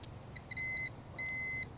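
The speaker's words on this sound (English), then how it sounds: "the first thing we're going to check is continuity. Check the ground to the case." Two clear electronic beeps from a multimeter on a continuity check between a starter's ground and its case, on a 1961 Imperial being rebuilt. The first tone lasts about 0.4 seconds and the second about 0.5 seconds, both steady and high-pitched over a low background hum.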